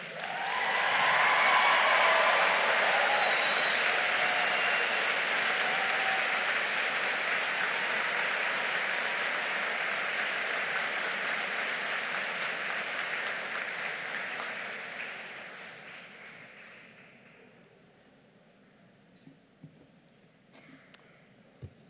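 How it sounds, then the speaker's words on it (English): Sustained applause from a large crowd at a Brock University spring convocation ceremony, loud and dense for about fifteen seconds before tapering off to a few scattered claps. "I think it deserves another moment of applause."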